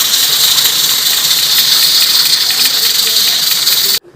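Steam hissing from a pot of kidney beans and black-eyed beans left to steam, a loud, steady, unbroken rush that runs for about four seconds and then cuts off abruptly.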